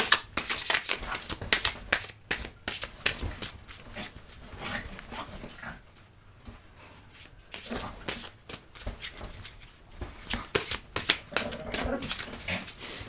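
Oracle cards (Dorine Virtue's Angels of Love deck) being shuffled by hand, close rapid riffling and flapping bursts with brief pauses, quiet throughout.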